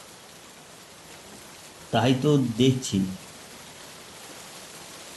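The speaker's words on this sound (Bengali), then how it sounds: "বৃষ্টি সহজে থামবে বলে মনে হয় না" Steady rain hiss fills the background while a person speaks briefly midway.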